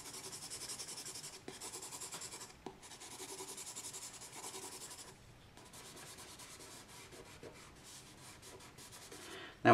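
Charcoal scrubs and rubs steadily across paper while shading a still-life drawing of a water chestnut, a close, continuous scratchy rasp with brief pauses and no voices.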